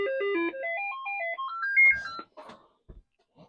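A Commodore 64 diagnostic cartridge runs its sound test, playing a rising and falling sequence of clean synthesized tones in quick steps, then ending in a few short noisy blips and clicks before near silence.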